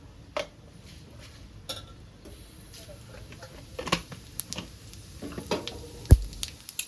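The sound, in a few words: mustard seeds and cumin sizzling in hot oil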